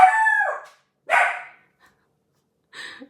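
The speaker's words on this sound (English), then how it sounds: "He tends to play a lot in his crate when you put him in there, so it can get quite noisy." A dog in its crate lets out a few short, separate yelps and barks while it plays, loud and close, with silence between them.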